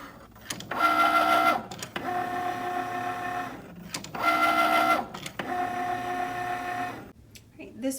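A Cricut cutting machine scoring thick, shiny poster board with a slightly dull blade. Close motorized whirring comes in two repeating rounds of back-and-forth passes, with short pauses and clicks between them and a voice talking now and then.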